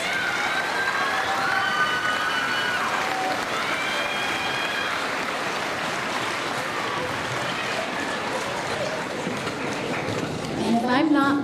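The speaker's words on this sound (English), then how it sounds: "Give them another round of applause." Sustained applause from an audience at a middle school transition event, steady dense clapping for the whole stretch with a few faint whistles, swelling slightly near the end.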